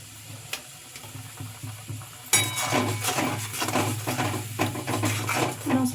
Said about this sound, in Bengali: মশলাটা ভালোভাবে কষিয়ে নেব তেল ছাড়া অবধি।